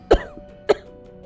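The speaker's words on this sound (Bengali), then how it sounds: "ছাইয়ের বিষক্রিয়ায় ও কাশতে শুরু করলো।" Two sharp coughs spaced about half a second apart, near and fairly loud, from a character choking on poisonous ash in a voiced drama.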